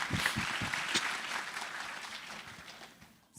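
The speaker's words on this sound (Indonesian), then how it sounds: "Tepuk tangan dulu, dari mana?" Steady applause from an audience at a talk during a mindfulness festival, a continuous moderate wash of clapping that gradually fades out.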